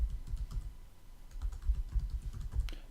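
Soft, steady keystrokes on a computer keyboard patter in an irregular rhythm, quiet and close with light background hiss.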